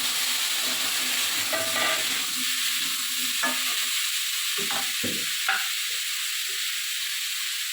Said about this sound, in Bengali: আর এখানে কড়াইয়ে বসিয়ে দিচ্ছি কুমড়ো ভাজা।